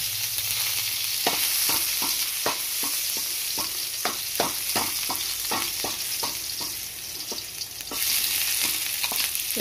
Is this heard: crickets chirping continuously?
no